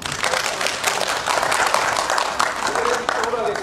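Applause from an audience at an outdoor alumni association gathering in Seoul Forest: a dense, steady wash of many hands clapping fills the whole stretch, fairly loud and close, with crowd noise mixed in.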